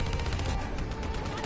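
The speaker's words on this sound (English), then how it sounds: "Hit him with the swarm launcher" A swarm launcher fires in a video game battle, a dense, continuous roar of rapid blasts and rushing noise that stays loud and steady throughout, with no pauses.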